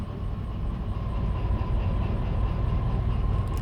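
A DE6 diesel locomotive in the train simulator Derail Valley moves under light throttle, giving a steady, close engine rumble with a low humming drone and faint rail noise, even and unbroken.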